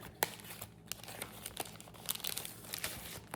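A sticker is peeled back, giving a quiet, close crinkling and light tearing rustle with a few sharper crackles.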